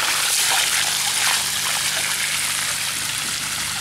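Green, algae-laden water rushes steadily out of a pool filter pump being flushed during pool cleaning, a constant loud splashing flow with no talking.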